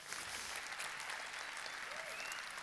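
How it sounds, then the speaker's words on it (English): Audience applause filling a conference hall at a games industry event in Jordan, steady dense clapping from a large crowd sustained throughout at moderate level. "give yourselves a round of applause"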